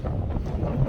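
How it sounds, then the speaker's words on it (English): Wind gusts outdoors against the microphone, a low continuous rumble filling the whole second with no other clear sound. "It's windy out here."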